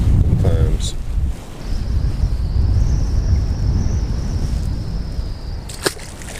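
Strong wind buffets the microphone outdoors on the water during a fall bass fishing outing, a loud, steady rushing roar that runs through the whole stretch with gusty surges.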